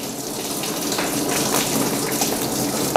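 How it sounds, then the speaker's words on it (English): Water gushes and trickles steadily from leaking pipes on an old REO Gold Comet ramp truck, a close, continuous splashing rush with no voices over it. "maybe we must wait for the water to drain first"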